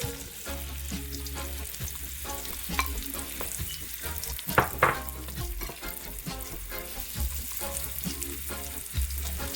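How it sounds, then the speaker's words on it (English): Onions hit hot oil in a pan while preparing ackee and saltfish with shrimp, giving a steady close sizzle with occasional stirring clatter and utensil knocks throughout, and no talking. "And I'm going to add my onions."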